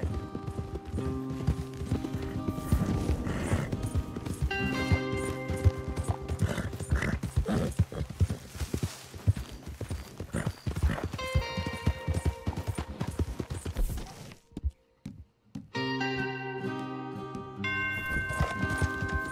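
Horse hooves clip-clop steadily in Red Dead Redemption 2, a close rhythmic clatter of several strides over game sounds, with a brief near-silent gap before resuming.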